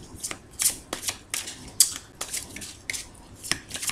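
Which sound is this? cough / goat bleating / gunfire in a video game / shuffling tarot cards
shuffling tarot cards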